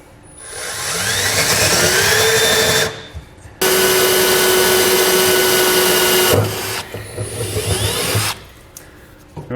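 Power drill boring pilot holes up through the bed of a 2019 Ford F-350 Super Duty for a fifth wheel underbed kit, loud whining runs of several seconds that stop and restart, with a steady motor hum.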